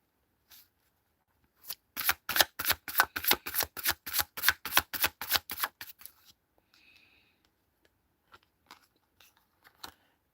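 A deck of tarot cards is riffled in a fast crisp run of flicking snaps lasting about four seconds, close up, followed by a few scattered soft taps and rustles.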